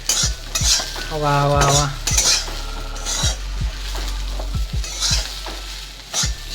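A spoon scrapes and stirs food in a frying pan over a steady sizzle, with repeated knocks of the utensil against the pan and a person's voice briefly heard.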